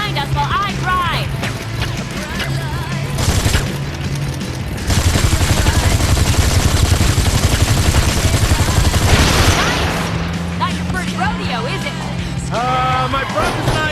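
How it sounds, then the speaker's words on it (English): Gunfire from a driving shootout in the video game Gangstar Vegas, sustained bursts of shots over a steady vehicle rumble and game music, with dense loud stretches in the middle. "this is the part where you take this gun and shoot at the assholes behind us while I drive"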